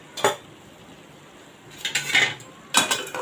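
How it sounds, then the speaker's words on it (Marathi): Spoon or ladle clinks and scrapes against a pot while a kolam rice mixture for tondli bhaat is stirred, in three separate bursts: a short knock, a longer scraping stretch, then another sharp clatter. "आणि हे चांगले आता मिक्स करून घेऊया. अशा पद्धतीने जरा ढवळून घेऊया आता चांगला."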